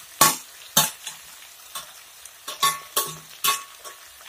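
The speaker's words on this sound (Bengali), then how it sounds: "এবার এই তেল দিয়ে ভালো করে এই কুলটাকে কষাবো" Jujubes (kul) are stir-fried in hot oil in a pan. About eight sharp, rhythmic bursts of sizzling and scraping come from the strokes, separated by quieter gaps.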